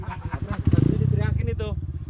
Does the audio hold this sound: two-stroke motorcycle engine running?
yes